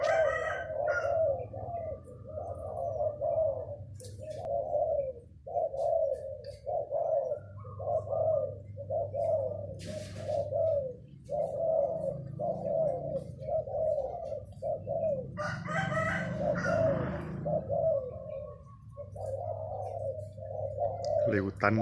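Repeated rhythmic bird calls, coos and crowing-like notes, keep going steadily at moderate distance over a soft, droning background.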